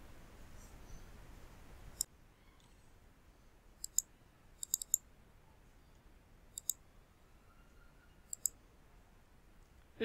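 A computer mouse clicks about a dozen times in short, sharp bursts, some as quick doubles, spaced irregularly over a quiet room hush, close and crisp with no speech.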